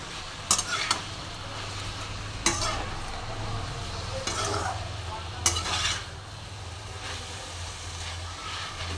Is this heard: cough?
no